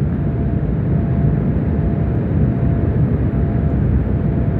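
Loud, steady low rumble of an airplane climbing overhead after takeoff, a dense continuous roar with no breaks and no voices.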